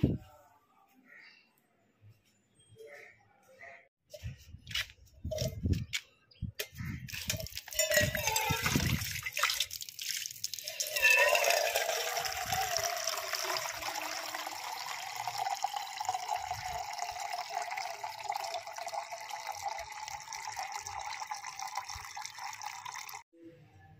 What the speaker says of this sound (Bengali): এবার একটু বালতি করে জল নিয়ে আসবো কল থেকে